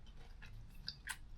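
Close-up chewing of sweet and sour sea bream fish with carrot, soft and quiet mouth sounds with a few small crisp bites and a faint wet click, no talking.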